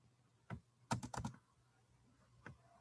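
Code typed on a computer keyboard, a single key press, then a quick cluster of clacking keystrokes and one more tap, close and quiet.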